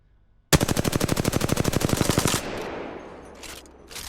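The R301 rifle in the Apex Legends video game fires one rapid, sustained burst of about two seconds, loud and close. A fading tail follows with a few faint later sounds.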